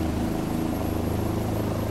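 A Bell 407 helicopter flies in the X-Plane simulator, giving a steady, droning rotor and turbine hum with rhythmic blade pulsing, loud and unchanging throughout.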